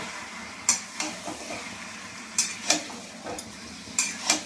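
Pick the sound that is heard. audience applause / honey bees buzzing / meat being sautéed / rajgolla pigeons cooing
meat being sautéed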